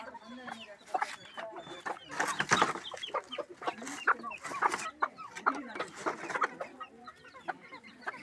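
A hen, rooster and chicks cluck close by in a busy farmyard chorus, with short overlapping clucks and peeps that come in quick bursts across the whole stretch.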